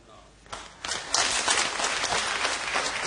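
Studio audience at an Indonesian televised talk show breaking into applause, claps building quickly from a quiet start into a sustained, dense ovation that stays strong to the end.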